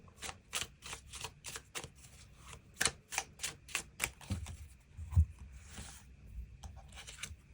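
Tarot cards riffled and shuffled by hand in a quick run of crisp, rhythmic snaps, then a few softer card slides and taps, close and fairly quiet with no talking.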